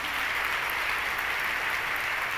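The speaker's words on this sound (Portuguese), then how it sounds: "Pode aplaudir o Deus vivo." Church congregation applauding during a healing Mass homily, a steady broadband wash of clapping that holds at an even level for the whole stretch, with no voice above it.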